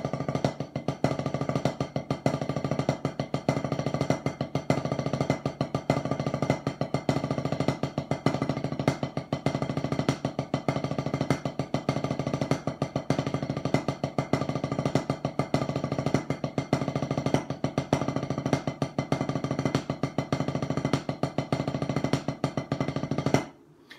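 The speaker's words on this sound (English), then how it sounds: "I'm doing an 8-stroke roll." A drum sticking exercise played as an 8-stroke roll gives a continuous fast stream of even, evenly spaced stick strokes, loud and close for about twenty-four seconds with no talking.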